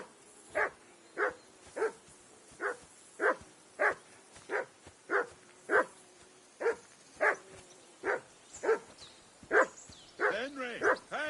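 Mutt the dog barking in Kingdom Come Deliverance 2, a long run of regular, evenly spaced loud barks that grows quicker and more excited toward the end.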